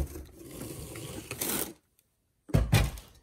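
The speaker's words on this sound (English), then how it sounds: "moving the stove back and forth" A kitchen stove dragged back and forth across the floor, giving two bursts of scraping, rattling movement separated by a silent pause, fairly close.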